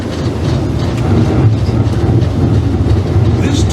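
The Disneyland Railroad train rolls along its tracks in Anaheim with a loud, steady rumble and faint rhythmic clatter, while a recorded announcement voice talks over it.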